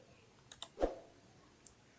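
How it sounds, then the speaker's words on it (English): Computer keyboard keys pressed during a Blender modeling session: a few sparse, close clicks, one slightly stronger tap in the middle and a faint click later, in an otherwise quiet room. "push the dot on your keyboard and then push 1"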